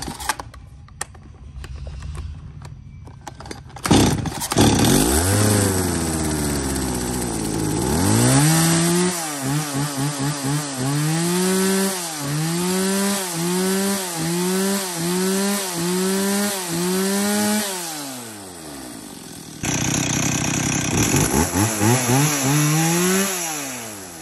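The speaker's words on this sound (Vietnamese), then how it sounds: "Rồi, sẽ test nổ cho anh em." A used Japanese-market chainsaw with a decompression valve and no spring-assisted starter is pull-started. After a few tugs it catches, then revs hard in a rapid series of close, loud bursts before settling to a fast idle.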